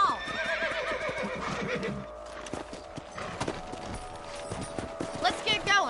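Horses in the Western video game Red Dead Redemption, with steady hoof clip-clop and a whinny over a busy game soundtrack, loud and close throughout.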